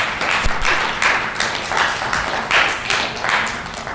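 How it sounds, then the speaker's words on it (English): Applause at a middle school spelling bee for the alternate speller, a steady patter of many hands clapping in a room, sustained with uneven swells and no talk over it. "round of applause for our alternate"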